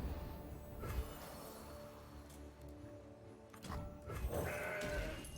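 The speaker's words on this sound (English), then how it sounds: "This is my goat." A goat in the card game Legends of Runeterra gives a couple of drawn-out bleats, moderately close, with game music and effects underneath and no talking over it.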